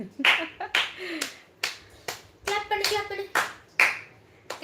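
A child clapping hands, about ten sharp, separate claps in an uneven rhythm, close and clear, with a little voice sound between some of them.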